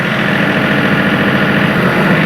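A John Deere compact tractor engine runs steadily at close range while its rear PTO is engaged, a loud, even, vibrating drone with a continuous low rumble and no talking.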